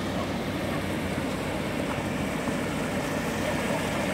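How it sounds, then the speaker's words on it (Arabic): A motor engine runs steadily beside a riverbed in a wadi on a nature trail near a dam, giving a constant low drone with wind and rushing noise and no break in level. "هذاك المحرك اللي هضرنا عليه قبيله هو هذا"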